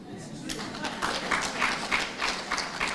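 An audience claps at a formal gathering honouring a president, a dense, rhythmic patter of hands that keeps going steadily under a voice speaking.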